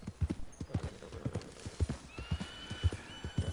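Close, rhythmic hoofbeats of a horse in Red Dead Redemption 2 thud along at a trot, while a drawn-out whinny rises midway through.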